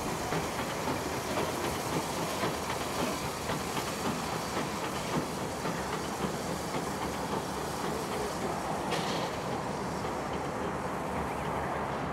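A train rumbles and hisses steadily at close range near Valley Heights Loco Depot, New South Wales, a dense continuous roar with faint clattering of wheels as it moves off.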